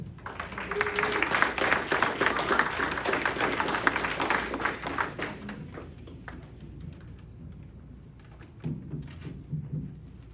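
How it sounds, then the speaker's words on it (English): Audience applause at a mushroom club talk in New Hampshire: dense clapping fills the first six seconds, fades, and then a voice and a few scattered sounds follow near the end. "Please give a round of applause, Rick Vanderpool."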